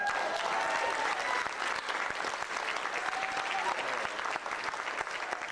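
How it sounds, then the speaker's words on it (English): A church congregation claps steadily through the whole stretch, a dense, even wash of applause at moderate distance with a few faint voices mixed in. "Go ahead and give him a clap on for it."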